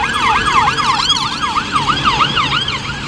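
A police car siren wails past in a repeating up-and-down two-tone sweep, loud and close, with traffic rumble beneath and no talk.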